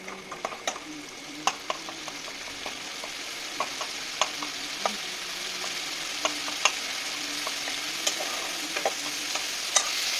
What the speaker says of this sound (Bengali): এবারে মশলাটাকে একটু ভালো করে কষিয়ে নিচ্ছি।